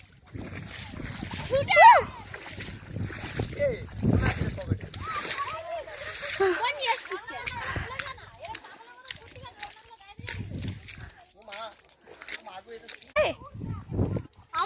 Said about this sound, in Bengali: আমরা এখন নদীতে নামবো, স্নান করব। আমরা নেমে গেছি নদীতে।